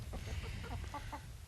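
Chickens on a remote island homestead clucking softly, several short low clucks in an uneven run, close but faint over steady background noise.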